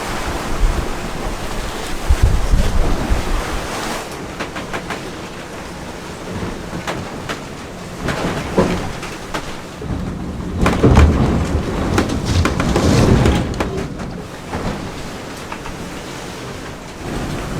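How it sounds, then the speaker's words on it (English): Heavy wind and rough weather in a storm at sea aboard a sailboat en route to Tonga, with winds around 31 knots and driving rain; a steady loud roar of wind and surf with surging gusts, no talking. "We now get to enjoy the rough weather with pissing rain."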